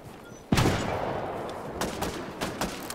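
Video game gunfire: a sharp, loud shot opens the burst, followed by several quicker, slightly fainter shots in an uneven volley, with no voices over them.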